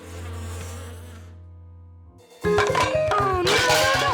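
Cartoon bees buzz around a hive in a steady, droning hum, followed by a sudden loud burst of busy animated music and sound effects.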